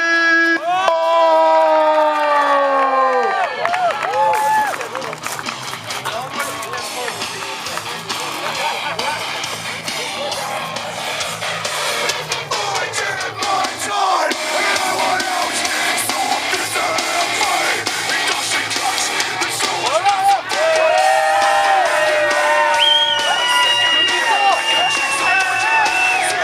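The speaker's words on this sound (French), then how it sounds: "un tonnerre d'applaudissements pour Vampiro." Loud wrestling arena crowd cheering and applauding for a hardcore wrestler's entrance at a three-way match, a dense sustained roar with yells and whoops throughout, strong from start to finish.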